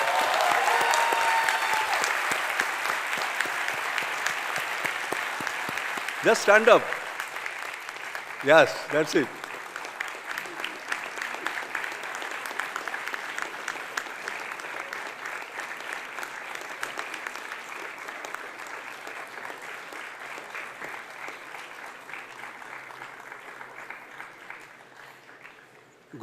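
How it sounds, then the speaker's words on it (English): A convocation crowd gives long, sustained, thunderous applause that fills the hall for over twenty-five seconds and slowly tapers. A few louder thumps break through near the start, and someone speaks briefly over it. "let us give him a thunderous applause"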